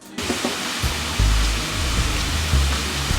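Annandale waterfall in Grenada pours with a steady broadband rush, close and constant, under low rumbling bursts that sound like wind on the microphone.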